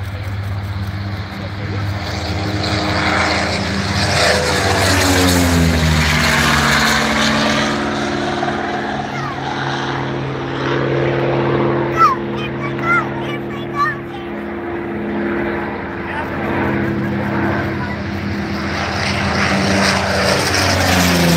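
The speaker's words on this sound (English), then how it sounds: "Here comes our first Sea Fury" A Hawker Sea Fury propeller fighter, its big radial engine roaring, makes a loud flyby at an airshow in Nevada County; the drone swells and sweeps past with a falling pitch, while an announcer talks over it.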